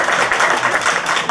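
A dense wash of audience applause at a high school graduation ceremony in May 2013, many hands clapping together loudly and steadily.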